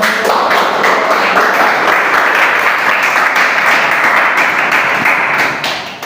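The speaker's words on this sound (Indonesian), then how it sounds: "Ya, tepuk tangan." An audience in a teaching-practice class on educational leadership applauds, with sustained, even clapping from many hands that holds steady for several seconds before tapering off at the end.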